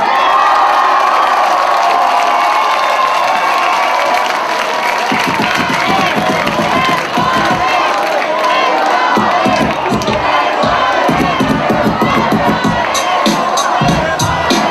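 A large crowd at a live rap battle final shouts, cheers and whoops loudly and continuously, with rhythmic chanting surges throughout.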